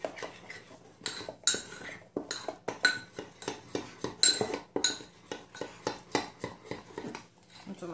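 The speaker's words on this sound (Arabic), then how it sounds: "غادي نبقى نزيد الماء ونخلط" Pastry dough for mille-feuille being mixed in a bowl as water is added: irregular clinking and scraping of a utensil against the bowl, close and fairly quiet, with pauses between strokes.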